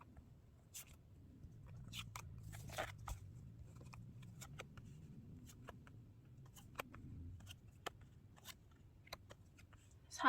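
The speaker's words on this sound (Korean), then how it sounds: "4번 셔플 할게요." Tarot cards are shuffled by hand, making faint, close riffles and crisp flicks in scattered bursts over a low, quiet background.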